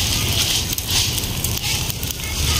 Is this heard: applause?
no